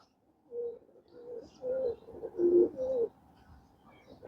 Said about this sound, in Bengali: এইটা হচ্ছে বন্ধুরা আমার এক লক্ষ টাকা দামের কবুতরের বাচ্চা